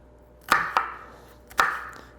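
A knife chops through a red onion on a board, three sharp close strikes, two in quick succession then a pause before the third, with no talk.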